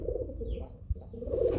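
Pigeons coo in low, soft, throaty calls at a farm selling racing and flying pigeons, heard close and continuous over the short stretch, with no talking.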